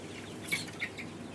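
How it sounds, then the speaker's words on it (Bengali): Native free-range chickens out in the sun give a few faint, scattered clucks over a quiet outdoor background. "কিছু মুরগি রোদের তাপ নিতেছে, খাওয়া দাওয়া করতেছে, দৌড়াদৌড়ি ফালাফালি করতেছে"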